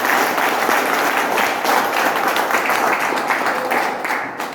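An audience claps in sustained, dense applause that stays loud and even throughout, then thins and fades slightly toward the end.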